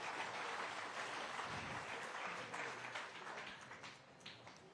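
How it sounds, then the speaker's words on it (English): A crowd at an outdoor bass fishing tournament weigh-in on Lake Eufaula gives a steady round of applause for an angler, heard faintly and at a distance, fading slightly toward the end. "One more round of applause."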